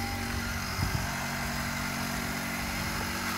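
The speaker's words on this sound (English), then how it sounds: "Okay, start the car." A Hyundai Accent engine idles just after starting, a steady low mechanical hum with a brief bump near the start, then an even drone close by with no talking.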